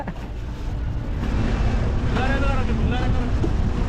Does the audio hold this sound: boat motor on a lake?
yes